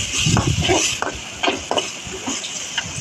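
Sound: stirring chickpeas with ginger and garlic in a pan

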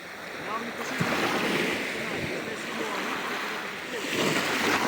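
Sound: sea waves

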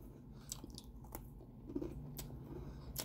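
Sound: chewing a bite of food

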